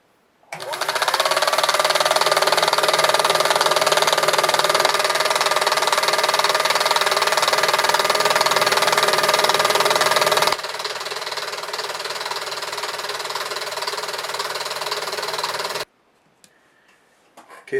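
A coil winder spins a humbucker pickup bobbin with a loud, steady mechanical whir. It shifts to a slightly different tone partway through, then stops abruptly, and brief quiet follows.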